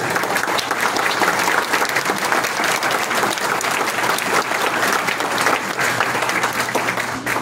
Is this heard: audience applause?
yes